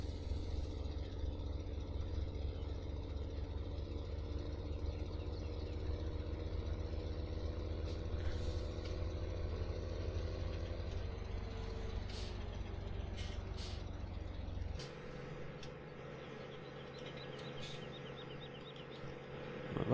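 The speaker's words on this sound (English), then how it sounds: "Why the fuck is the engine still running?" A truck engine idles steadily in Farming Simulator 2017 on the Goldcrest Valley map, a low continuous drone with a sharp hiss of air brakes and clicks partway through, then the engine tone drops lower toward the end.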